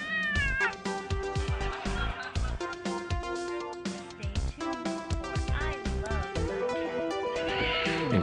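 A cartoon cat meows repeatedly over a TV channel in the Thimbleweed Park point-and-click game, the meows sitting on top of a busy, loud musical jingle that runs throughout.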